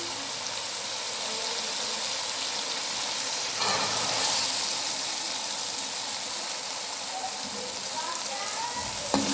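Peas go into roasted masala for a potato, pea and carrot curry, a steady loud frying hiss that swells briefly as they are added, then sizzles on evenly.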